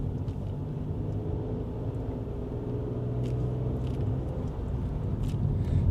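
A car drives on a road during a driving test route in a 20 zone, giving a steady low engine and tyre rumble throughout, moderately loud and continuous with no talk.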